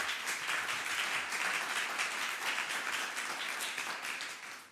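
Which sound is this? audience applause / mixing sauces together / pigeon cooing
audience applause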